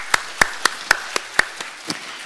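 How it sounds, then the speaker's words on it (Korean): A small church congregation at a Sunday worship service gives encouraging applause: about eight distinct, evenly spaced claps, fairly close, with the later ones softer and trailing off. "격려의 박수를 한번 해주시기 바랍니다"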